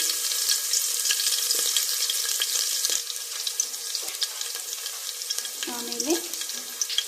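Cumin and crushed garlic sizzle in hot oil for a drumstick sambar, a steady bright frying hiss throughout with small pops and a brief stir or clink near the end, no talking.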